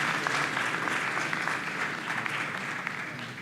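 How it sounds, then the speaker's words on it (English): Sustained applause from a conference audience at a youth pre-conference event, steady and fairly loud throughout with dense, even clapping and no pauses. "Please keep clapping until he gets to the stage."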